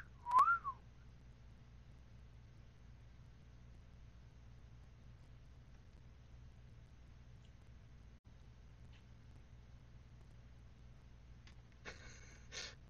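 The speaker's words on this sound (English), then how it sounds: "I caught up to your whistle in the street." A short rising whistle sounds once at the start in the video game Tacoma, followed by long quiet hum and a faint crackly burst near the end.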